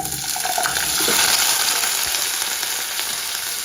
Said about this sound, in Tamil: இப்போ நான் வந்து உருளைக்கிழங்கு வந்து சேர்க்க போகிறேன்.